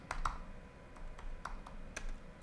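Computer keyboard typing comes in a quick, irregular run of close, crisp key clicks with short pauses between strokes.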